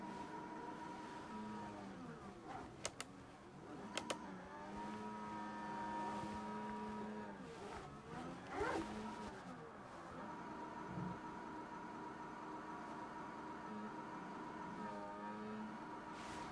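A Formula 1 car engine in an Xbox F1 racing game, driven with a Thrustmaster SF1000 wheel while spinning the rear tires to wear them, whining and revving up and down steadily with brief sharp clicks and no voices.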